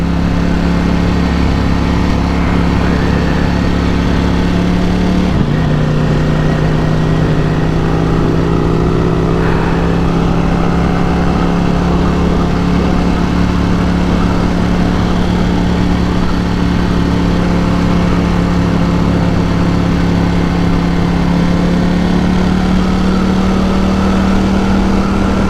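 A 1000cc motorcycle engine idles loud and close, holding a steady, even putter for the whole stretch with only slight shifts in pitch and no voices over it.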